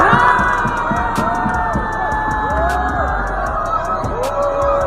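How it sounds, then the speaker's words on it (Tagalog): A basketball crowd roars and cheers after a long three-pointer, dense loud arena noise with whoops, whistles and rising shouts, sustained throughout with horn-like tones cutting through. "Hiyawan ang buong crowd."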